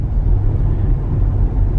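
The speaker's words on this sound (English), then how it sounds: "It's a fully electrical vehicle." Low, steady rumble of a fully electric vehicle accelerating at partial throttle, a smooth continuous drone heard from inside the cabin with no voices.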